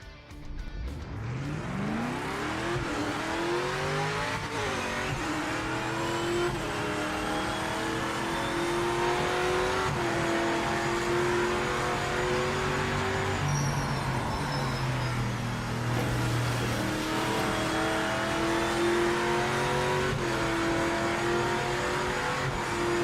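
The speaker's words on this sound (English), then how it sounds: "I'll just drive the out lap slower. That way I don't heat the tires up." Race car engine on a slow out lap in Rennsport, starting from a low idle and climbing through upshifts, then settling into a steady, loud drone with gentle pitch sweeps and occasional lifts, and no voices.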